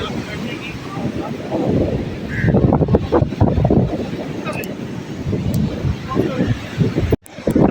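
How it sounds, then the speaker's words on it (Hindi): Wind gusting at seaside huts at Hawksbay, a rough roaring buffet against the microphone that swells and drops, with a brief cutout near the end. "अल्लाह का शुक्र है थोड़ी बहुत हवा चल रही है"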